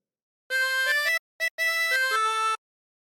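A harmonica plays the second phrase of Roll the Old Chariot Along. Close, clean reed tones come in a short melody with quick note changes and one brief repeated note after a pause, with no other sound.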